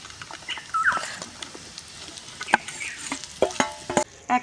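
Fish filling with fried potatoes and chicken being stir-fried in a pan, a light sizzle with scattered utensil scrapes and clinks, while a dog whimpers and yelps nearby.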